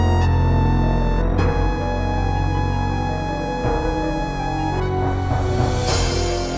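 Quest for Glory game music, an MT-32 soundtrack played through an SC-55, a dense synthesized orchestral passage of sustained chords and percussion hits, steady and loud with no talk.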